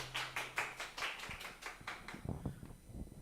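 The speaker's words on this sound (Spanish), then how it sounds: "démosle un aplauso a Diego, nuestro invitado." Faint, scattered hand claps from a small conference audience after a talk on cooperative technologies, a few seconds of uneven, distant clapping.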